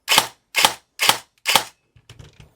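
CYMA SR25 airsoft rifle (REC10 build with CYMA grip) firing four sharp, evenly spaced single shots up close before pre-cocking is set up, each a crisp snap of the gearbox, followed by a few faint quieter clicks of handling.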